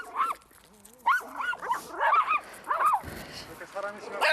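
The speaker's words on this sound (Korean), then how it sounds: "멀리서 사람이 다가오자 다시 짖기 시작합니다." A leashed dog barks repeatedly at people approaching from a distance on a walk, several sharp barks spread across the clip alongside whines and talking voices.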